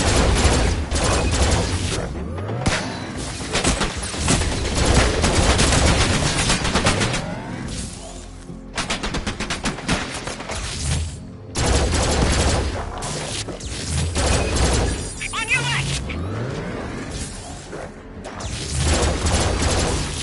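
Sustained gunfire in the Farpoint video game, dense rapid shots and bursts over a loud, busy battle soundscape with explosions, heard throughout with little talk.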